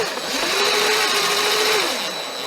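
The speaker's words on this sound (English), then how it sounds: "Just going to use our drill here, cheat a little bit." A power drill whirs steadily for about two seconds, close and loud, rising then winding down, tightening the chain adjuster on a Ski-Doo 850 snowmobile.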